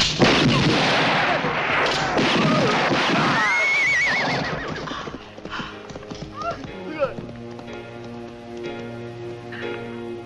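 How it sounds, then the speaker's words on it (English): Gunfire in a 1972 Sergio Corbucci western, mixed with horse hooves clip-clopping and a horse whinnying, loud and close at first before fading into a quieter stretch. "Pretty good shooting, Sonny."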